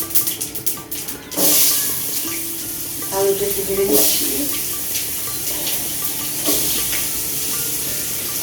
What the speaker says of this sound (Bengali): আমি একটু ফোড়ন দিয়ে জিরা ফোড়ন দিয়ে নিই